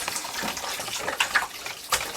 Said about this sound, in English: I'm now going to give the beef a second washing.